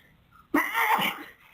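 A single sudden sneeze, close and fairly loud, breaking out of a quiet room and then fading away.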